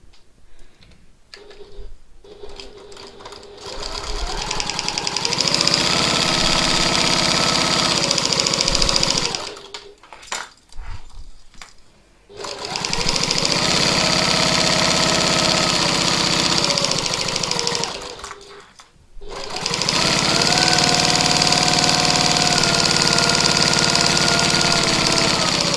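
A sewing machine stitches a quarter-inch seam along the edge of a piped pocket tote bag, running in long steady whirring bursts close up, separated by short stops.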